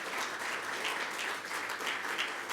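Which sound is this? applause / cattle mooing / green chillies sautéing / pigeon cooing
applause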